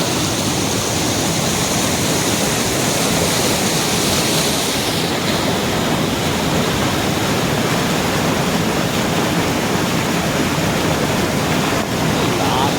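Ghagra waterfall at Belpahari in Jhargram, its clear water pouring in a constant loud, broadband rush that fills the whole stretch with little variation.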